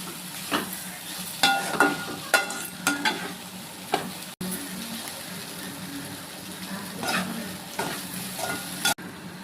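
Chettinad egg fry being stirred and sautéed in a pan, a steady close sizzle with repeated scraping spoon strokes, a few sharper clacks against the pan, and no talking.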